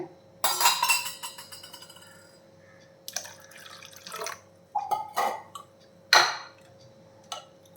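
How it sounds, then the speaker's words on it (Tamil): Rava dosa batter thinned with water is stirred in a vessel, giving wet sloshing swirls and clinking strikes of a utensil against the rim in irregular bursts, close and alone. "ஒவ்வொரு தோசை ஊற்றும் போது நம்ம நல்லா இந்த மாதிரி மிக்ஸ் பண்ணிட்டு தான் ஊற்றணும்"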